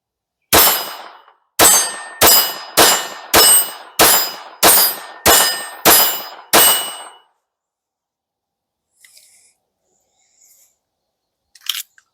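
A Hammerli Forge H1 1911 pistol in .22LR, loaded with Federal Champion ammunition, fires ten sharp, loud shots in a quick, fairly even string, each with a brief ringing tail, followed by near silence and a few faint clinks.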